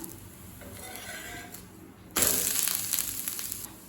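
Adai dosa, a lentil-rich batter pancake, cooks in oil on a pan: a quiet sizzle swells into a louder, bright hiss midway as the dosa is flipped, then continues crackling; no voices.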